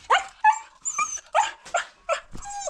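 A young, growing dog barks and yips in a quick series of about eight sharp, close barks, some higher and whiny, with no talking.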